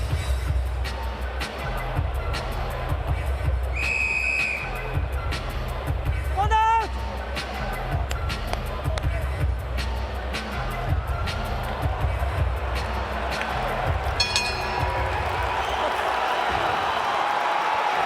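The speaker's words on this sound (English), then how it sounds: "Spectacular crowd in Perth. A sellout at the RAC Arena" A sellout boxing crowd at RAC Arena in Perth hums and roars steadily in the background beneath continuous commentary from someone speaking.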